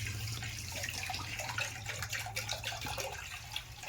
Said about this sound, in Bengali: আর তার জন্য ঠান্ডা জল প্রথমে দিয়ে দিলাম।